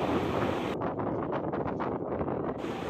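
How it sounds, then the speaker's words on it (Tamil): Strong wind on the seashore at Kanyakumari blasts straight into the microphone, making a loud, continuous roar and rumble that buffets unevenly for the whole stretch, with no voices. "பார்த்திங்கன்னா எப்படி அடிக்குது பாருங்கள், காற்று காற்று பேசவே விடலை"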